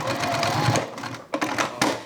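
A sewing machine stitches a seam along the side of a small zipper toiletry pouch, running steadily and close with brief pauses.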